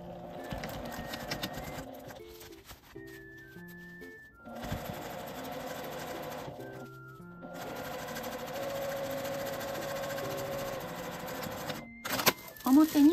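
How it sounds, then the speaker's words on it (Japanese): A domestic sewing machine stitching a Daiso aluminium bag along a 5 mm seam allowance: bursts of rapid mechanical whirring broken by short pauses, close and fairly loud, with faint voice and music underneath. "反対側も同じように上端を合わせて5ミリの縫い代で縫います"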